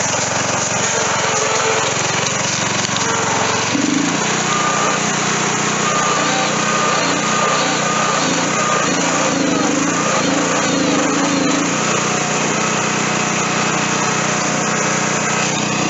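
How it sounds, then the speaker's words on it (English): A tractor engine idles and runs steadily while the machine sits stuck in mud, a continuous buzzing drone that gets a little rougher and lower partway through. "This tractor right here is still stuck in this in the mud"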